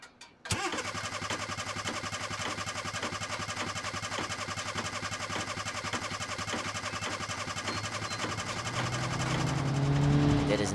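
A car engine in BeamNG.drive cranks and catches, then runs with a rough, rhythmic knocking idle from low oil pressure that grows louder and more strained near the end.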